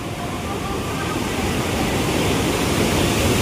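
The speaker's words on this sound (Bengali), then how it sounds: "এত শব্দ হচ্ছে জলের" Teesta river water roars through the half-open gates of the barrage at Gajoldoba as a loud, steady, broadband rush that fills the whole stretch without pause, heard close up.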